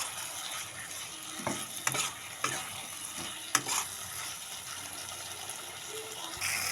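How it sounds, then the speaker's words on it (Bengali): Fried potatoes sautéed in a cooked-down spice masala: a steady low sizzle with scattered scraping stirs and a few sharp clinks of a spoon against the pan, close by. "দেখো এখানে কিন্তু আলুগুলো কষা হয়ে গেছে"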